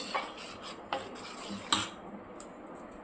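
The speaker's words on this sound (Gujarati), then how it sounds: "મિક્સ કરી દઈશું" Appam batter made with sago and barnyard millet, with salt, sugar and chilli flakes, mixed in a bowl; soft, close scraping strokes with a few light clinks against the bowl, fairly quiet.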